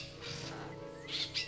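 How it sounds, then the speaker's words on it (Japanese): An eerie bird call used as a sound effect in the Grisaia visual novel: two sharp high chirps near the end over a sustained ambient bed, with no speech. "その日の朝、私は不気味な鳥の鳴き声で目を覚ました。"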